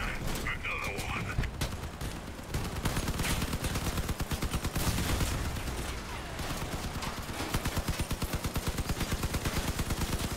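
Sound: sniper gunfire in the video game Crossout

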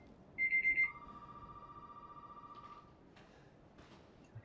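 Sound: telephone ringing in video game Resident Evil 7

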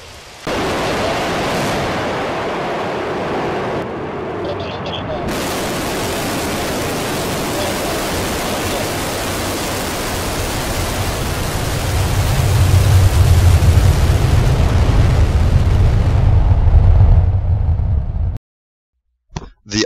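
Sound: R-7 rocket launch recording

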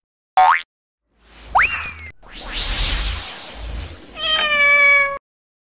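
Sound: cat meowing

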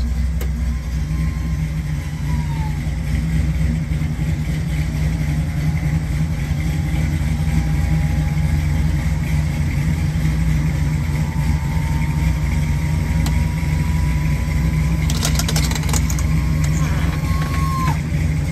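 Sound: 1970 Oldsmobile Cutlass convertible engine idling

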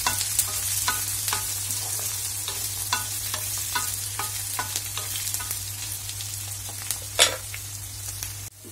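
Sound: onion pieces frying in a pan

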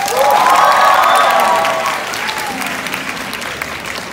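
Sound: concert audience applause

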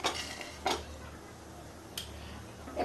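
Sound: putting a lid on a cooking pot

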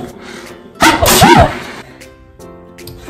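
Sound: person sneezing

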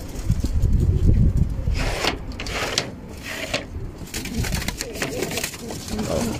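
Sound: pigeons cooing

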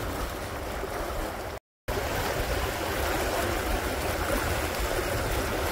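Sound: Neel 52 trimaran sailing through water

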